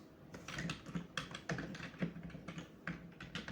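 Steady typing on a computer keyboard while entering a column name into an MS Access database table, close and distinct keystrokes in irregular bursts, no voices.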